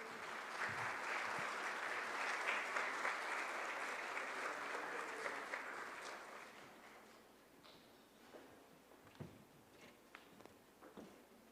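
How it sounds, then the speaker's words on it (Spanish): An audience at a public procurement ceremony claps in a sustained burst that fades after about six seconds into a few scattered claps and faint room noise. "Fuerte el aplauso."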